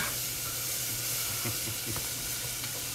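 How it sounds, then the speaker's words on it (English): Onions sweat in a hot pan during a lamb rack dinner, giving a steady close sizzle and frying hiss with occasional stirring scrapes and no voices. "we're just sweating, pretty much sweating the onions here"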